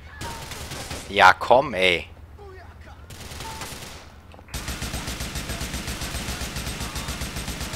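Rapid bursts of gunfire in GTA IV, a loud volley near the start followed by sustained repeated shots through the second half, with someone talking over the action.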